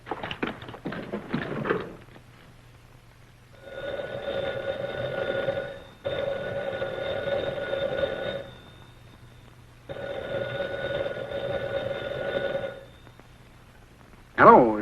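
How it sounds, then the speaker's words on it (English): A telephone bell rings on a private phone in a Western film, with three long bursts of ringing separated by short pauses, after a voice at the start, with a clatter at the end as the receiver is lifted. "It rang, and I took off the receiver unthinkingly"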